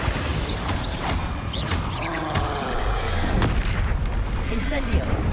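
A Bombarda explosion spell in Hogwarts Legacy booms amid a busy, dense game battle mix of rumbling impacts and mechanical clatter, with voices talking throughout.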